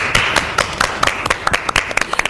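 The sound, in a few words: audience applause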